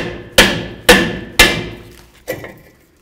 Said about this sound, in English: You can give it a loving bonk or pry it away.